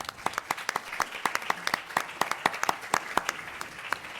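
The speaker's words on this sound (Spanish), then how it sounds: "para quien también pido un caluroso aplauso" An audience at a Mexican legal conference on judicial independence applauds, with dense, steady clapping from many hands that holds for several seconds at fairly close range.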